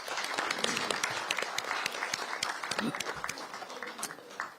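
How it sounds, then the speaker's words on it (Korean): Audience applause of thanks at a political budget event in Honam, a dense patter of clapping that fills the room steadily throughout, with some crowd noise mixed in. "감사의 박수 한번 부탁드리겠습니다."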